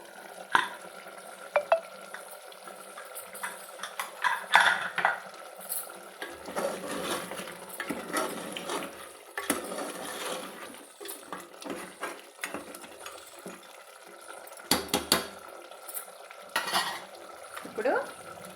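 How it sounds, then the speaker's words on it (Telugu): Mutton curry being stirred in a pot, with repeated scraping and clinking of a spoon against metal in an irregular rhythm, close and moderately loud, with no talking. "మధ్య మధ్యలో కలుపుతూ"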